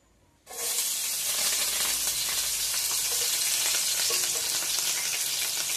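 Green chillies drop into hot oil and burst into a loud, continuous sizzle and hiss for several seconds. The frying stays close and steady, with no talk over it.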